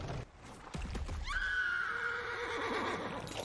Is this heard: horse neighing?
yes